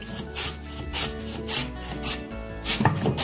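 Repeated rasping strokes of a potato being sliced on a slicer for crispy chips, about one stroke every half second, close and fairly loud.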